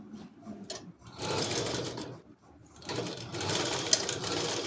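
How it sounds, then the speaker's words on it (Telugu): A sewing machine stitching a blouse, with two bursts of fast, steady mechanical whirring separated by a short pause, close and moderately loud, no talking. "దీన్ని ఒక 2 ఇంచుల వరకు లేదా 1 ఇంచ్ వరకు కుట్టు వేసుకోవాలి"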